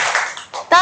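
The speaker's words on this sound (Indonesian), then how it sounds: "Tepuk 3" Young schoolchildren in a classroom clap on a teacher's count, a short burst of sharp claps near the end following a brief stretch of voices.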